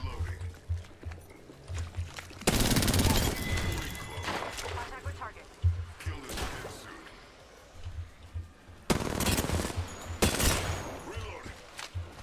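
Loud volleys of Apex Legends gunfire burst out in two main clusters amid constant game noise, with a person talking at times over the action.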